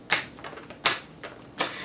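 Tarot cards from the Mystical Wisdom deck being loosely shuffled by hand, giving three or four short, crisp riffling bursts spaced about a second apart, close and quiet, with no talking.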